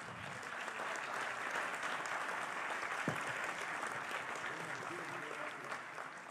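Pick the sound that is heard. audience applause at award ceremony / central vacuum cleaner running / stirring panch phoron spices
audience applause at award ceremony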